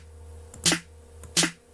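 An electronic drum kit's high, small snare voice sounds as two short, sharp hits about three-quarters of a second apart over a faint steady hum, with no talking.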